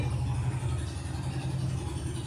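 A motorbike passes outside, producing a steady mid-range engine drone that holds loud and constant throughout, with no talking over it.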